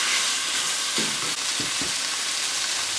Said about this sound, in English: Just a couple of minutes cooking with those now, just to get the flavours of our pan infused into the peppers.